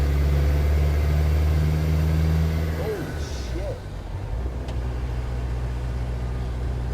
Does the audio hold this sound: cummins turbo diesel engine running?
yes